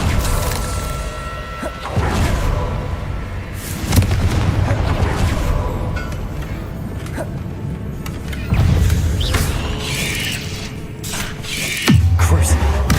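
Confringo fire spell blasts in Hogwarts Legacy, a few heavy booming impacts spaced several seconds apart, loud and near, over a constant clatter of mechanical game sounds.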